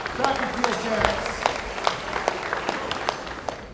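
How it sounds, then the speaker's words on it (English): Light applause at a sports awards breakfast honouring track and field champions, sharp individual claps standing out from a thin spread of clapping, while a voice talks over it throughout. "Round of applause here"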